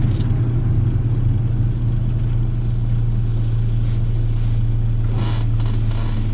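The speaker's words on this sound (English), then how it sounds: "It gets that kick, or the two kicks out of the exhaust." Car engine droning loudly from inside the cabin, a steady low rumble with small exhaust pops as the driver lifts off the gas, no voices heard.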